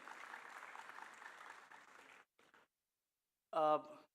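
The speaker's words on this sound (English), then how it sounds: "A round of applause for IMCS Group also." Sustained applause from a crowd for about two seconds, then a few scattered claps, a pause, and a brief voice at the end.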